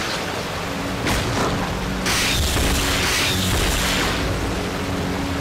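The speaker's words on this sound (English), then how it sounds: "I want to use some grenade rounds on these guys." Grenade rounds explode up close in Resident Evil 0, giving several heavy booms with a rumbling, noisy aftermath and no talk.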